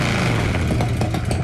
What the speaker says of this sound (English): I love the sound of Harleys when they're tuned right and everything's working.